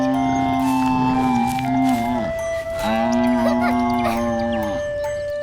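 A buffalo in a village lowing in two long, deep, drawn-out calls separated by a brief pause, loud and close over a steady background bed.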